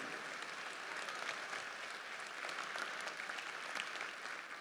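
Audience applause at a business hall of fame gala, a dense, continuous wash of many hands clapping that holds steady and fairly distant for several seconds with no talk over it.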